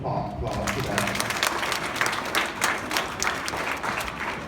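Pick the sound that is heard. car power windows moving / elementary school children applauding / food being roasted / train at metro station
elementary school children applauding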